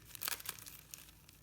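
Heat-sealed plastic sachets of paste embellishments being cut open, a quiet burst of crinkling and snipping early on, then faint scattered rustles.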